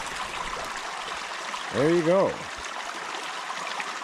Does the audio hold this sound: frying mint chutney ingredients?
no